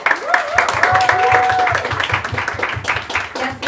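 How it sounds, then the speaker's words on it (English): An audience claps for a three-person fitness, health and nutrition panel, a short burst of fairly close applause under a voice. "So please, a big round of applause for all three of them."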